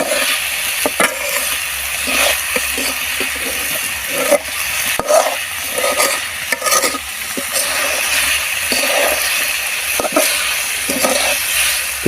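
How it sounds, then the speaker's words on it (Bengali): Onion and potato fry together in a pan, a continuous sizzle broken by irregular clinks and scrapes of stirring. "পেঁয়াজ দিয়ে আর আলু দিয়ে একসাথে ভাজি"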